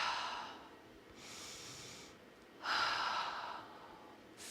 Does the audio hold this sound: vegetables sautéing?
no